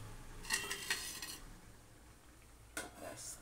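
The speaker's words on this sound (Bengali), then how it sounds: "এবার আমি এটাকে ঢেকে দেব" A metal lid set onto a cooking pan with prawns in yogurt sauce, two short clattering bursts of metal contact separated by a quiet pause, close by and without talk.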